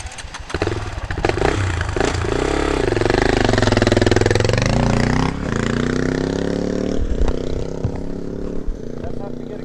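KTM 350 EXC-F dirt bike engine on a hard enduro climb near Big Bear, California, loud and close, revving and bogging through sustained throttle with pitch rising and falling, a brief drop near the middle, and voices underneath.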